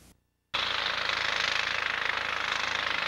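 At a rock quarry near Top Pond Brook, construction drilling machinery starts up abruptly after a brief quiet and keeps up a loud, steady hammering roar.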